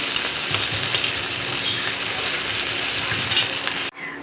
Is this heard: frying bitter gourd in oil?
yes